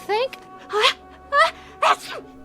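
Sneezes in a radio drama, a short run of sharp, voiced bursts with gasping intakes between them, close and clear.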